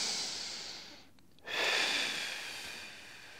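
A strong, breathy exhale pushes out close to the mic during a squat breathing exercise, swelling suddenly after a brief pause and then fading gradually, with no speech.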